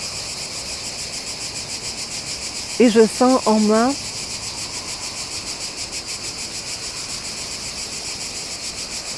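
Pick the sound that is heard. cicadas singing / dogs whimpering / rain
cicadas singing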